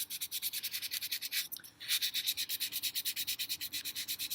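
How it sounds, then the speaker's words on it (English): Wet 400-grit sandpaper rubbed by hand across the tops of old solar garden lights, a steady back-and-forth scratching in quick even strokes with a brief pause midway, close and clear with no talk. "you're just going to sand the tops of it"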